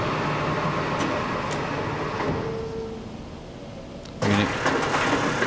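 A 15-inch by 54-inch LeBlond engine lathe runs with a steady mechanical hum, then changes spindle speed, and a louder, brighter running tone kicks in near the end.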